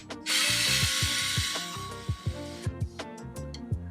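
A forgotten screw comes out of a Super Nintendo main board: a broad, close whirring hiss runs for a couple of seconds, then gives way to sharp, uneven ratchet-like clicks and ticks from the screwdriver.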